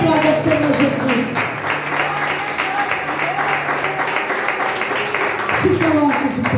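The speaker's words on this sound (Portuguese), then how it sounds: "Aplauda o Senhor Jesus" A church congregation applauds during a sermon, many hands clapping in a continuous wash while a voice and sustained musical tones carry on over the clapping.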